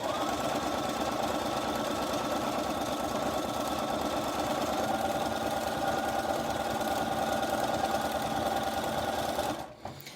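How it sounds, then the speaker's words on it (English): A sewing machine stitches continuously along a row of fabric with a fast, even mechanical whir and rhythmic needle clatter, close and steady before stopping abruptly near the end. "keep going round, keeping that presser foot on the edge of that row of stitching"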